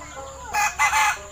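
Egyptian Fayoumi chickens on a poultry farm, with a close, loud rooster crow in two bursts over quieter ambient clucking.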